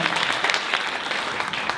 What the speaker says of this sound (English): So a round of applause for New York City, this beautiful city that we live in.